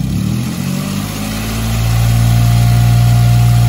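A Toyota Agya / Daihatsu Ayla engine, with its cables just replaced, idles low and then is revved up into a steady, louder hum during a test for stuttering under light throttle.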